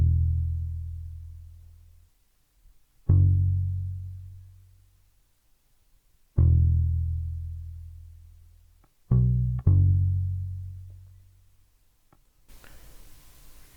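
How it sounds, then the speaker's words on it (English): A 70s P bass from Modo Bass plays chord root notes, each a deep, round tone that rings out and slowly fades; five notes with gaps, two struck close together near the end, and nothing else alongside. "So I added a 70s P bass from Modo Bass, which is following the root notes of the chords"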